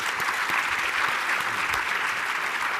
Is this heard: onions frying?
no